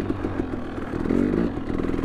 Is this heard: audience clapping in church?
no